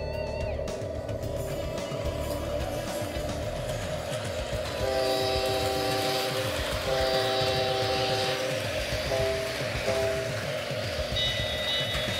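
A Bachmann E-Z App model locomotive runs on its track with a steady electric motor whir and rail clatter, then gives several sustained horn or whistle blasts at moderate volume.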